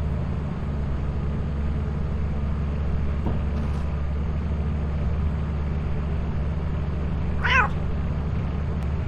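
A cat in the video game Lethal Company gives a single short meow about three-quarters of the way through, set against a steady low background hum with no talk.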